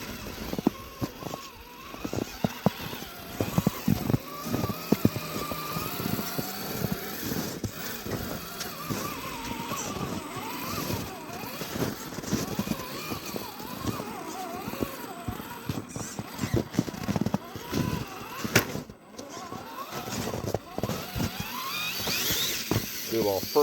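An Axial SCX10.3 RC crawler truck with a 40 kg servo runs a first-gear speed test, its small electric motor whining and buzzing steadily with crunchy, uneven bursts of drivetrain and terrain noise, fairly close.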